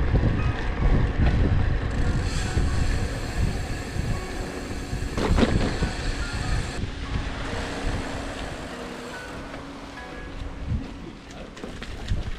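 Wind gusts roar across the microphone in a constant rushing blast on a cycling path in Ireland, with a low rumble underneath and occasional clattering bumps.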